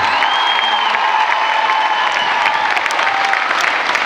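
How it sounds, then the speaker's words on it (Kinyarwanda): A large crowd in Rwanda applauds the President with loud, sustained clapping and some cheering, the sound dense and continuous from start to finish. "nagira ngo mumpere amashyi menshi cyane nyakubahwa Perezida wa Repubulika"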